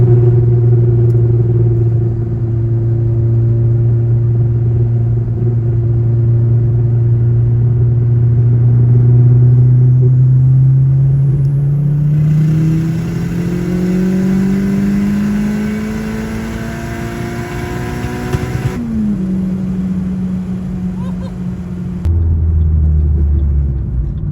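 A 500 hp Chevrolet Cobalt SS engine revs hard through a third-gear pull from 3,500 to 7,500 RPM, its rising drone climbing steadily and loudly before an abrupt shift and settling rumble near the end, with no talking.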